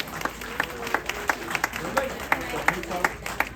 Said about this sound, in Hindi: ये इसकी भरपूर तालियां बजानी चाहिए आप लोगों को भाई